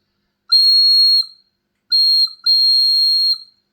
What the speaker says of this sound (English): The dog whistle is fully functional and produces that characteristic high-pitched tone.